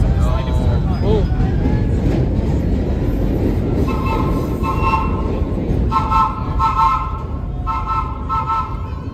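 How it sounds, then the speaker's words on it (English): A vintage subway train arrives on a nostalgia holiday run in New York's Second Avenue line, steady rumbling with bright wheel squeals and tonal screeching in the second half, people talking over the train noise throughout. "Arriving in a dark train."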